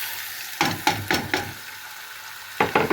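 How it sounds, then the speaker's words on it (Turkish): Boiled dried green beans stirred and sautéing in a pan, a few separate scraping, sizzling bursts of stirring over a quiet background. "Şurada biraz kavuracağım"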